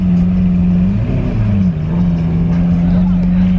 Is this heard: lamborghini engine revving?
yes